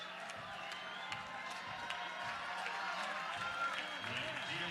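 Softball crowd at an Alabama State vs Oklahoma game rising and cheering as a junior All-American batter steps in with the bases loaded; a steady, moderately distant roar of cheers and scattered claps blends with an announcer's voice throughout.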